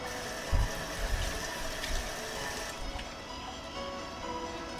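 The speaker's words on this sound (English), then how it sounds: "So you're going to wash your lemon." A lemon is washed under a running kitchen tap, giving a steady close rush of water with a few splashy bumps as the fruit is turned, and the flow thins near the end.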